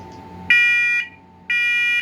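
Interconnected wireless smoke alarms sound together in two loud, steady electronic buzzing bursts, each about half a second long, with a short quiet gap between them. No one speaks.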